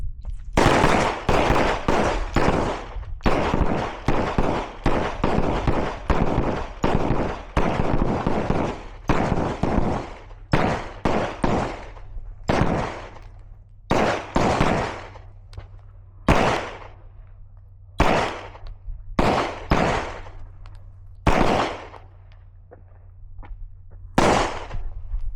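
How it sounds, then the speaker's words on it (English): Repeated sharp handgun shots at an outdoor firearms training session, a fast volley followed by spaced single and paired reports, loud and close with a steady low hum underneath. "Begin shooting."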